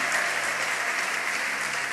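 A church congregation applauds in praise, a brief, steady wash of clapping at moderate loudness.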